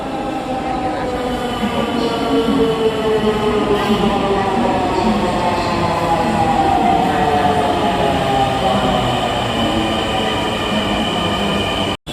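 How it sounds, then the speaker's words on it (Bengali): A Dhaka metro rail train pulls into the station, its loud electric whine and rumble sliding in pitch with rising and falling tones for several seconds, close by, before cutting off abruptly. "মেট্রো রেল আসছে।"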